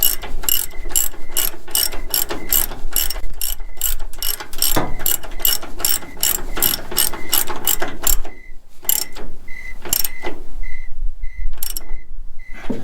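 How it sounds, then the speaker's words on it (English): Rapid, loud ratchet clicking in long continuous runs while tightening a shock bolt on a 1983 GMC C10 Squarebody, then slower, spaced bursts of clicks with short pauses between them. "Hope you guys can hear that because the ratchet is a little bit loud."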